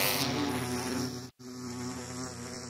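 Loud, intense buzzing of an agitated Minecraft bee, a harsh steady drone that cuts out for an instant midway, then resumes.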